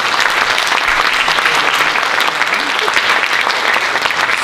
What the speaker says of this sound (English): So please give another round of applause for Nancy